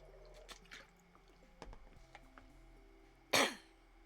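A single short, sharp throat clear close to the microphone near the end, after a stretch of quiet room noise and faint clicks, with no talking.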